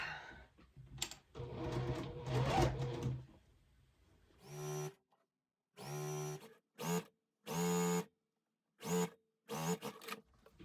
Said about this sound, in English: Right sides together, pin in your crease. And now sew.